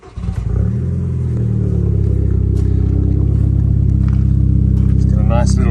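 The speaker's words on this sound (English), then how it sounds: "It's got a nice little burble, sports exhaust. Pops and crackles a little bit" A 2006 VW Golf GTI with a sports exhaust cranks and fires up, then settles into a loud, steady idle with a low burble that holds throughout.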